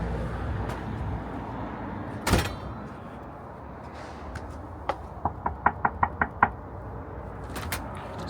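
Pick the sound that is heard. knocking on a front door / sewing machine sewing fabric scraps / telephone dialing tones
knocking on a front door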